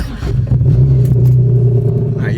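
Car engine revving steadily under light throttle during a manual-transmission driving lesson, a loud continuous low rumble with a slight rise in pitch, close up and with no talking.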